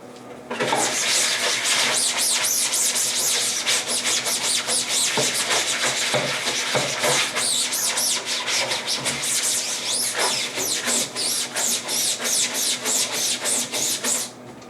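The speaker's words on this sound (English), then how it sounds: "basically now I can scrub down the ink." A brush scrubs ink off a wet screen-printing screen with ink wash, fast rhythmic bristle strokes rasping continuously and close up for most of the clip.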